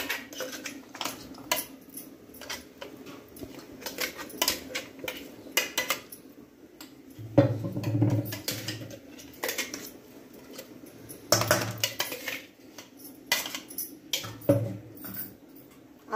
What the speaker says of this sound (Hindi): अब हम इसको दूसरे बर्तन में निकाल देती हूँ, ऐसा ही मुझे रखना है।